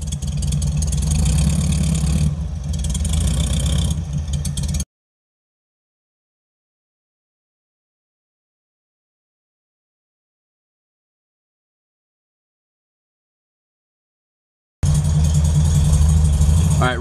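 A Volkswagen Beetle engine idles and runs steadily up close, cutting out into silence for about ten seconds before the engine sound returns.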